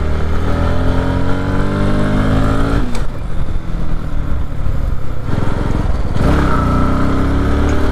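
Motorcycle on a solo ride, the engine droning loudly and continuously with rising revs and brief gear changes, close up with wind noise and no talk.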